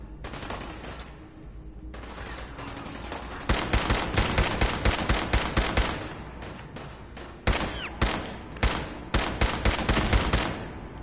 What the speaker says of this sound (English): What, they're already shooting at me.